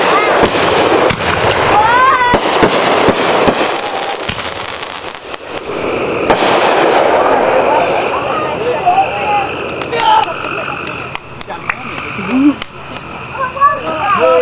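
Backyard fireworks firing a multi-shot cake of about 50 shots, with rapid repeated pops and crackling bursts plus whistling, loud and continuous, while people talk nearby and wind buffets the microphone.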